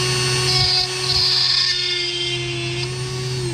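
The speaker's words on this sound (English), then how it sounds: "We're just gonna hollow it out a little bit with this Dremel." A Dremel rotary tool spins at high speed as it hollows out a small hole in a painted fishing bait, a loud, steady, close whine with slight changes in pitch as the bit meets the material.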